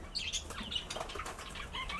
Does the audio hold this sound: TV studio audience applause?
no